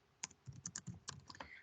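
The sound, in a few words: typing on a computer keyboard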